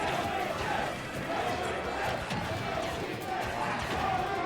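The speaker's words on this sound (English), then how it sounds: "The crowd noise is unparalleled" A live crowd roars and cheers at a Super Smash Bros. Ultimate tournament in a student union hall, a dense, sustained wall of voices swelling and dipping, with commentators talking over it.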